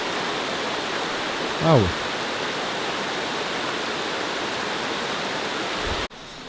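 A waterfall in the Great Smoky Mountains of North Carolina pours as a steady broadband roar throughout, with a brief spoken exclamation near the start and the sound cutting off abruptly near the end.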